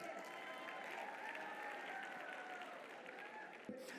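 Applause from an audience at a keynote event, a steady broad wash of clapping that holds for about four seconds before breaking off near the end.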